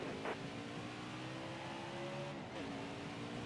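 NASCAR Heat 5 race car accelerating through the gears: a droning engine note climbs, drops briefly at a shift and climbs again, fairly quiet and steady with no talk.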